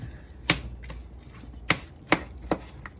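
Serving spoon scooping into a baked apple crisp, crunchy topping breaking in four or five sharp, close crackling scrapes spaced unevenly, with no talking.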